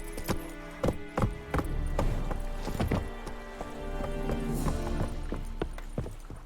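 Roach, a horse in The Witcher 3, clip-clops along with irregular hoof strikes close by, accompanied by harness jingles, a soft background music bed and occasional voices.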